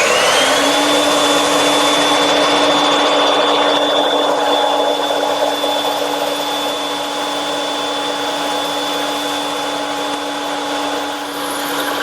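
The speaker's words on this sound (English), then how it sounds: "I'm going to cut it over here on the bandsaw, which I've equipped with a 1/4 inch wide blade" A bandsaw fitted with a 1/4 inch wide blade runs steadily, loud and close, with a constant motor whine and cutting noise while it saws a tight-radius template shape for a standing mirror. No one talks.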